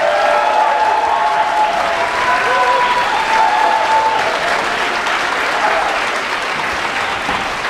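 An audience at a church concert claps loudly and steadily for a jazz ensemble, a dense, even wash of applause with some crowd noise, holding at full strength throughout.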